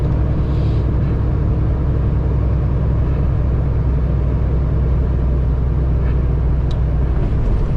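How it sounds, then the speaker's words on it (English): A car passing a truck on a Tennessee road, heard from inside the truck cab as a steady loud engine rumble and road drone throughout, with no voices. "We have a car on the right."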